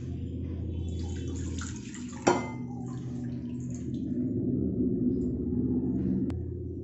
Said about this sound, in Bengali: আমরা মিষ্টির রস করে রেখেছি সেটা ঢেলে দেব